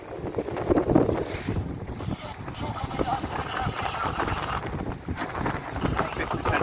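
Blustery wind buffeting a small sailing yacht cruising near Start Point, continuous rushing gusts over the microphone with water sloshing against the hull, and a voice speaking faintly underneath.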